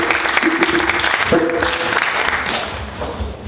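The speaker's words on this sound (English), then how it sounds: "So if we could give a clap." People at a closing ceremony clap in a loud, continuous round; a voice rises briefly over the applause with a few sustained tones, and the clapping carries on steadily to the end.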